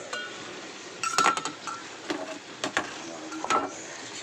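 A lid lifts off a cooking pot of tamarind vegetable curry with lentil dumplings, giving a couple of close metallic clinks and scrapes over a quiet kitchen background.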